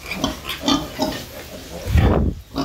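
A Duroc x Landrace sow grunts in several short bursts, ending in a louder, close grunt, with no talk over it.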